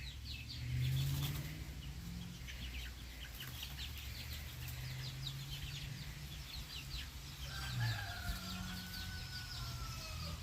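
Backyard chickens cluck near a muddy coop, scattered soft clucks and chirps over a steady low rumble, with a few louder bird calls and a brief fluttering.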